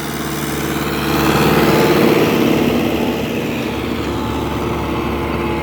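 An MTZ-80 tractor fitted with an added ballast weight plows a field at depth, its diesel engine a loud, continuous, close drone that swells slightly and then holds steady under load.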